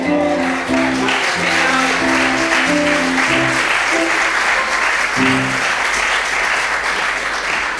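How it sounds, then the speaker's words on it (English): An audience applauds at a variety show in a church hall, a loud, dense crowd of clapping that carries on throughout while a musical chord sounds underneath at the start. "It's so lovely to hear you laughing and applauding there"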